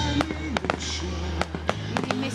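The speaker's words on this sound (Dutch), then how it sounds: "Ik hou echt van vuurwerk." Fireworks at an outdoor display on l'ile Chambod burst in a series of sharp, fairly close booms and crackles, irregularly spaced over a low steady rumble.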